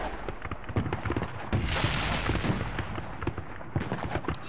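Gunfire in the Western video game Call of Juarez: Bound in Blood, a dense clatter of crackling shots and bursts layered over game music and effects, fairly quiet overall.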